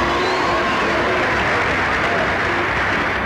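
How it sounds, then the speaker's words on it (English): Crowd of stargazers at the Flower Drum Song movie premiere applauding, a dense, continuous wash of clapping from many hands, loud and steady, with a faint murmur of voices beneath. "A crowd of stargazers have applause for Lana Turner"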